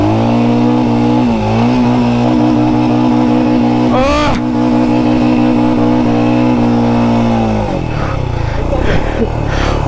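A Royal Enfield Himalayan motorcycle with a clutch problem idles and revs loudly up close in a rough, uneven rhythm, with a sharp rev midway and people talking over the engine throughout.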